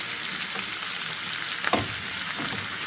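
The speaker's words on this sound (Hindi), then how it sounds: "ये देखें कि गोश्त जो है हमारा अच्छा से फ्राई हो गया है" Gosht, meat in a pan, frying with tomatoes for a Dhaba-style arvi gosht salan, giving off a dense, steady sizzle up close with a brief clink or stir near the middle.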